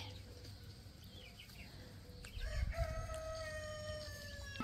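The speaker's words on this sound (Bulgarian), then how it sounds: "вижте рошавото пиле" A shaggy, tousled chicken crows with long drawn-out calls over a steady low farmyard rumble, fairly faint and close, with no talk.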